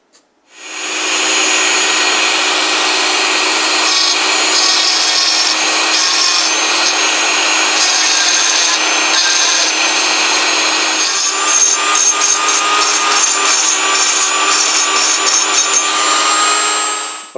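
Tool grinding material off the heavy side of a grinding wheel to balance it, giving a continuous loud, harsh scraping and whining roar that runs steadily and close for the whole stretch, with no talk.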